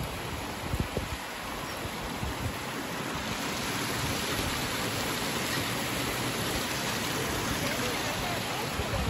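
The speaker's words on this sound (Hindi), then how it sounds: "ये जो पानी की आवाज़ सुन रहे हैं ना," Water flows steadily into a temple pond, a dense, even hiss like rain that carries on without a break, with a few faint knocks near the start.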